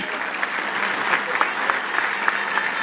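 A large crowd at a Dalit Panther golden jubilee rally applauds to welcome a speaker, steady dense clapping throughout with a few sharper individual claps standing out.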